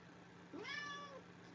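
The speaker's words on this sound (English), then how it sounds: "she meows" A house cat named Casey lets out a single rising then falling meow, close and clear against a quiet room.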